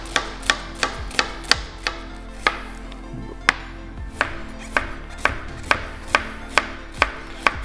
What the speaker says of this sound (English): So we're gonna do some small dices on this.